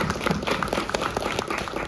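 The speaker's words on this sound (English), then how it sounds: "Let's have a round of applause for the mayor" Audience applause for the mayor at a National Neurodiversity Week panel at a high school, a dense steady patter of clapping filling the room for the whole stretch with no break.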